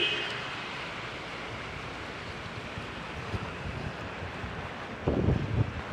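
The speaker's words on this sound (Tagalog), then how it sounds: "Madungog ang kasuguhangin. Kusog-kusog siya." Strong typhoon wind blows outdoors in Cebu, a steady, moderately faint broadband roar. Near the end a louder gust buffets the microphone. No one speaks.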